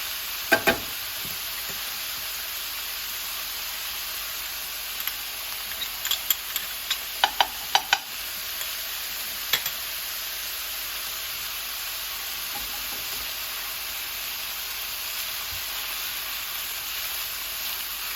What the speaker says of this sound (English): And so we're just kind of sauteing it a little bit.